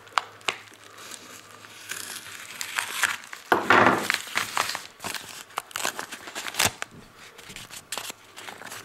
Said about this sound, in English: So we're going to cut this package here.